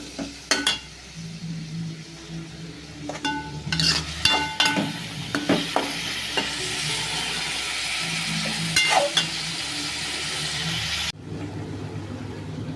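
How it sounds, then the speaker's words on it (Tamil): Chicken sautés with tomatoes in a hot pan for a Tamil-style chicken gravy, a steady close sizzle broken by repeated scraping and stirring knocks, until it cuts off abruptly near the end. "தக்காளி நல்லா வதங்கினதுக்கப்புறம் நம்ம சிக்கனை தூக்கி போட்டு வணக்கணும்"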